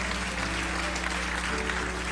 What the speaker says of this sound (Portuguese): Aplauda o Rei Jesus e tome o seu assento nessa noite.